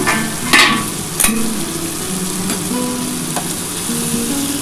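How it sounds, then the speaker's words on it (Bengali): Potatoes fry in a covered pan for an egg, potato and ridge gourd dish, giving a steady close sizzle and crackle with a couple of brief clatters early on and no voices. "ঢাকা দিয়ে ভাজলে কিন্তু আলুটা খুব তাড়াতাড়ি সিদ্ধ হয়ে যাবে"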